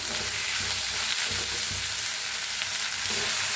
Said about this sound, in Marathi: 1 मिनिटभर असंच भाजून घेतलं मी तेलात